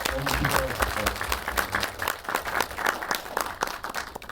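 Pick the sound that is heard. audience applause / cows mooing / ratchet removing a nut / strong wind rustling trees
audience applause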